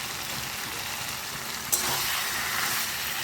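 Chicken and potatoes sauté in oil in a pan, a steady close sizzle with light stirring and a brief clack around the middle, after which the frying grows slightly louder.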